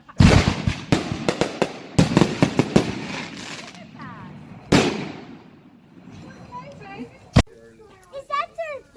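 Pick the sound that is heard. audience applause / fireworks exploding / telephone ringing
fireworks exploding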